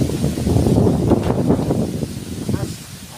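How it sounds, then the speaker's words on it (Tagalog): Strong gusty storm wind, with no rain, over a farm field buffets the microphone in low rumbling rushes, rising and easing over a few seconds. "lakas po ng hangin"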